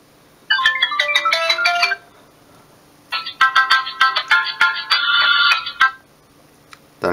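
A ringtone from the raspy speaker of an F+ B280 mobile phone, a loud, bright electronic melody in two bursts separated by a short pause, heard alone and close up.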